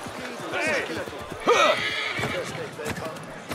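Horse in the video game Assassin's Creed Mirage whinnies loudly with clip-clopping hooves, set against a busy in-game city soundscape and close to the listener.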